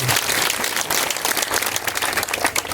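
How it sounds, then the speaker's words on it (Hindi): Crowd at a roadside padyatra gathering in Siwan district, Bihar, claps to welcome Prashant Kishor, a brief, loud, uneven patter of many hands close by. "एक बार सब लोग ताली बजा कर स्वागत करते"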